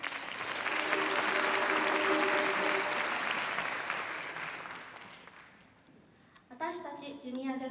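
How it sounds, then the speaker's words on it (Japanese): Audience applause for a soloist at a junior jazz orchestra concert, a sustained, full clapping crowd that gradually fades, followed by someone speaking over a microphone. "ソロを吹いてくれた神田彩乃ちゃんにもう一度拍手"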